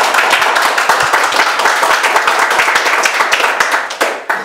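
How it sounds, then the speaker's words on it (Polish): A crowd applauds with brisk, dense clapping that holds steady for several seconds before thinning out at the end. "Brawa."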